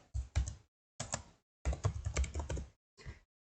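Computer keyboard keys tapped while entering a term into the Quizlet website, in several quick bursts of close, crisp clicks separated by short pauses.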